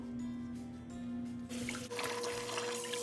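Tap water runs over crab being washed in a kitchen sink for soup, a steady splashing stream that turns louder and brighter halfway through as the flow hits the shell and basin.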